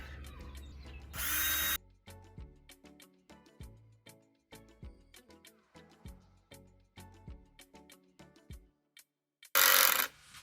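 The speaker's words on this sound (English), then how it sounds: "I'm going to drill from the outside." A power drill whirs in two short bursts into pallet wood, one at the start and one near the end, with light knocking and handling sounds in between.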